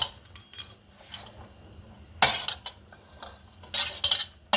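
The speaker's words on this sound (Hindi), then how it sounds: "अब जो हमने कटे हुए अदरक, हल्दी और हरी मिर्च रखी थी वो हम इसमें डाल के इसको मिक्स कर लेंगे।" Chopped ginger, turmeric and green chilli being stirred into a paste in a bowl for turmeric pickle, with soft scraping and two bright, louder clinking bursts of a spoon against the bowl near the end.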